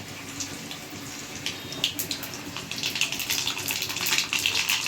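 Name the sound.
fenugreek and mustard seeds sizzling in hot oil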